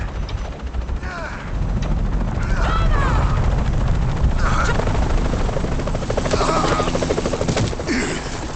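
A helicopter in the video game Shadow of the Tomb Raider thrums loudly and continuously with a deep rotor rumble, while bird calls and brief game sound effects pop up over it.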